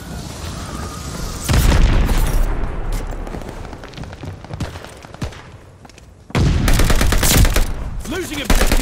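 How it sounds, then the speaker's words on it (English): Bomb blasts and gunfire in Call of Duty: Vanguard multiplayer: two heavy booming explosions with rumbling tails, the second near the end, separated by scattered rapid gunshots crackling in the mid-distance. "Teammate called a bomb"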